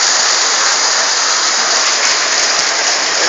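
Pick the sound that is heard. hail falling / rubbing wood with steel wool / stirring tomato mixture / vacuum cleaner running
hail falling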